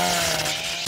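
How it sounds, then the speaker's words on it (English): A cartoon chainsaw effect: a loud, steady buzzing saw motor running continuously for about a second, as if cutting through metal bars, with a brief dip near the end. "it's perfectly fine to cut through electric bars with a metal chainsaw"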